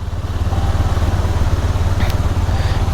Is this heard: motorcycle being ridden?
yes